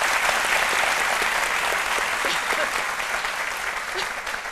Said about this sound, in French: on applaudit très fort Lynn Jabert